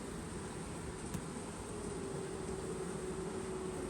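Honey bees flying around a newly installed hive from a package, a soft steady buzzing drone heard close and constant throughout, with no talk.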